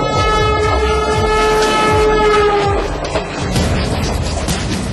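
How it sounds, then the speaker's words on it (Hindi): Train pulling out of Delhi's Hazrat Nizamuddin station, loud and close: a sustained horn tone over rumbling, clanking wheels and wagons that continue to roll and rattle after the horn stops. "ट्रेन जैसे ही दिल्ली के निजामुद्दीन स्टेशन से अपनी मंजिल की तरफ बढ़ी"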